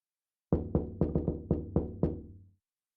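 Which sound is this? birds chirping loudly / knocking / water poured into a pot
knocking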